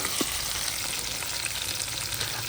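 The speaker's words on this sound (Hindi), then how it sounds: "भिंडियाँ मैं फ्राई कर रही थी, भिंडियाँ फ्राई हो गई हैं। भिंडियों को निकाल लेते हैं घी में से।" Okra fries in hot ghee with a steady, close hiss and crackle that runs unbroken through the whole moment, with no one talking.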